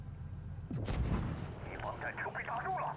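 A tank cannon fires in World of Tanks Blitz, playing the WZ-112-2: a single heavy boom with a low rumbling tail, followed by game effects and a voice talking over it.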